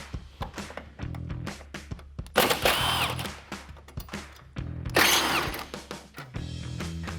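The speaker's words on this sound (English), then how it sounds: "let's unbolt our headlight" A power tool whirs in short bursts while bolts are backed out of a 2014 Chevrolet Silverado 1500 headlight, alternating with clicks and metallic handling sounds, close and fairly loud with brief pauses between runs.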